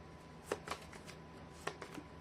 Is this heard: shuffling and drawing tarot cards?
yes